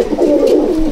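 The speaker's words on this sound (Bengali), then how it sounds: "এটা কালাঙ্কা টার্কি পায়রা আছে, টার্কি পায়রার মধ্যে আছে" Kalanka turkey pigeons in a loft coo steadily and close by, a continuous low throaty murmur with no talking.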